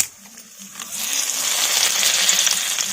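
Dried red chilli and bay leaf crackle and sizzle in hot mustard oil in a kadai, a soft crackle that swells and continues steadily.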